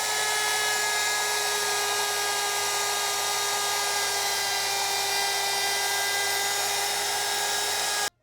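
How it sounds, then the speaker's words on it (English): A router fitted with a flush trim bit cleaning out a plywood cutout on a small security cabinet, a loud steady high-pitched whine holding unbroken for about eight seconds before cutting off abruptly. "take my router with a flush trim bit and clean this out"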